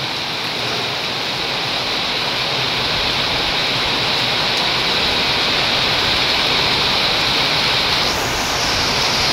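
Heavy rain pours down steadily on a building under construction, a dense, loud, unbroken roar of downpour with no voices.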